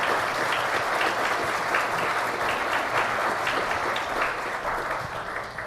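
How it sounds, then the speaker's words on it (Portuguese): An audience gives sustained applause to welcome a guest, the founder of a brewery, onto the stage at a brewing event, with steady dense clapping that runs throughout and tapers slightly at the end. "Queria que vocês recebessem, para quebrar um pouquinho esse gelo aí, com aplausos, Juliano Mendes"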